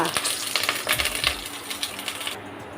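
Cumin, bay leaf, cinnamon, cardamom, asafoetida and curry leaves crackle and sizzle in hot tempering oil for a gravy, a busy close spitting hiss with sharp pops and spoon clinks that quiets near the end.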